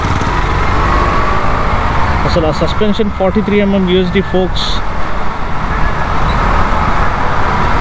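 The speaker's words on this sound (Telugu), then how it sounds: "ట్రాఫిక్ నార్మల్ కంటే కొంచెం ఎక్కువనే ఉంది ఈరోజు." Road traffic roars steadily around a rider on a 2021 KTM Duke 200 BS6 motorcycle, a dense wash of engines and wind noise that persists throughout while someone talks over it partway through.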